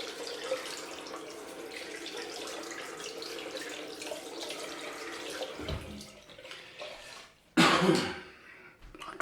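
Tap water runs steadily into a sink while a pair of glasses is rinsed under it during a head shave routine, close and continuous, with a throat clear and a louder splash near the end.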